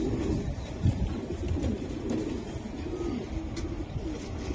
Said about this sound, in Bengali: এটা বুদাপেস্ট কবুতর ভাই।